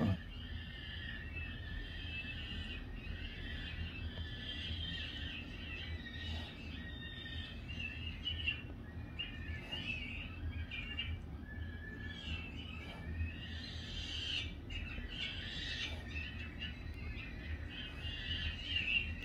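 Common swift chicks screaming in the nest as a parent arrives with food, a continuous shrill, squealing chorus of high calls rising and falling over a low background rumble, close and fairly loud, with no talk.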